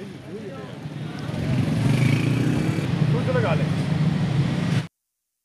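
A 1993 Yamaha YB 100 motorcycle rides on a test drive, with the engine note rising and holding steady under wind noise and faint voices before cutting off abruptly.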